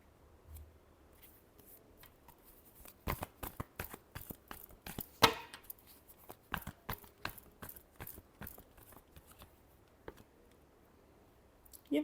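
Tarot cards shuffled by hand, a quiet run of crisp riffling clicks that bunch into dense bursts in the middle, with a sharper snap near the end and no talking.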